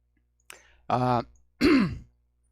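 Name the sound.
throat clearing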